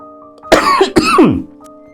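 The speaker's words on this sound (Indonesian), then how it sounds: "sambil terbatuk-batuk" Two harsh coughs in quick succession, close and fairly loud, over a steady low electrical hum.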